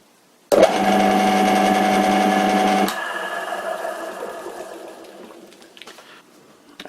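An old Karger wood lathe starts up abruptly with a loud, steady motor whine and hum, then a homemade bowl gouge makes light cuts on the turning wood, softer scraping and fading as the cut eases off.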